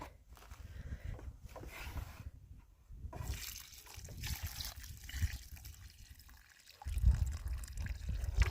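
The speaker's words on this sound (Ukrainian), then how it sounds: "трохи пролью водичкою з укорінювачем" Water mixed with rooting stimulant is poured onto a newly planted rose, giving soft splashing and trickling in uneven bursts, close and fairly quiet, with a louder gush near the end.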